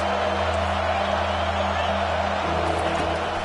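Stadium crowd noise from the Madden 25 American football video game, a steady, dense roar of cheering fans building before a big third down, continuous and fairly loud throughout without clear speech.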